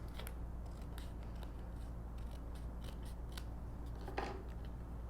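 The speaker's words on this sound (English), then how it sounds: "I'm going to go ahead and just cut that" Scissors snip through a card border in a quiet room, several short soft cuts spread irregularly across the stretch, faint and close up.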